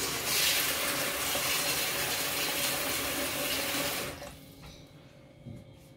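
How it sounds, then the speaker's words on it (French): Cold water poured into a cooking pot, a close, steady splashing rush for about four seconds that stops abruptly, followed by faint drips and a small knock. "Un tout petit peu d'eau, juste..."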